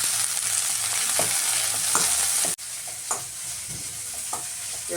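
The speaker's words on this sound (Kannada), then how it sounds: "ಇದನ್ನು ಒಂದು ಸ್ವಲ್ಪ ಫ್ರೈ ಮಾಡ್ತೀನಿ" Tomato, mint and spices fry in a pan with a constant close sizzle, punctuated by soft scraping knocks of stirring and one abrupt brief drop in the noise.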